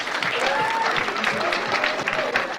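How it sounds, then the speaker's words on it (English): Crowd at a billiards exhibition in Amsterdam applauding steadily, a continuous wash of clapping heard from a short distance, with a few voices calling out and murmuring through it. "And just listen to that crowd."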